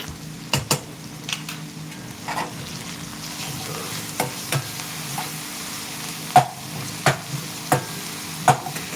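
A ground paste of ginger, green chili and garlic fries in a pan for potato bhaji, a steady soft sizzle with scattered sharp clinks of a spoon stirring against the metal.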